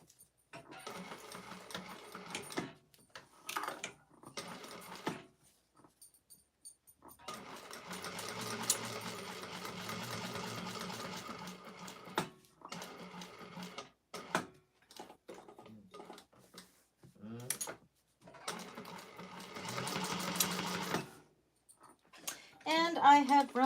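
A sewing machine basting the interior of a clutch wallet runs in several short and longer bursts of rapid stitching separated by pauses, with a person talking in the gaps.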